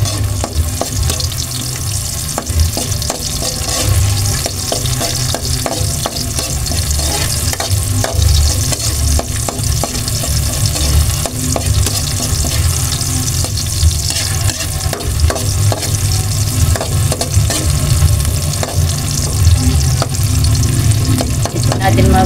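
Chopped onions sizzle and fry in a pan for Filipino pork adobo, with steady crackling throughout and frequent scrapes and clinks of a spoon stirring them, close and loud with no talking.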